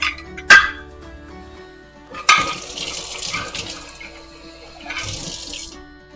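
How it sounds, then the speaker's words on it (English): A quarter cup of water pours into flour for homemade dog treats, a brief splashing trickle that starts sharply and runs for a few seconds in a quiet kitchen, with a small clink before it. "then we're going to put a 1/4 cup of water"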